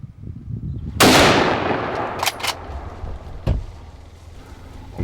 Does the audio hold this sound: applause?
no